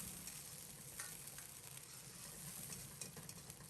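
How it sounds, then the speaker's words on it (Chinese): Pork slices frying in hot oil in a wok, stirred with chopsticks, a faint steady sizzle with soft scraping and clicking movements, quiet and continuous. "放入煎好的肉片，用筷子不停地搅拌，将其搅散。"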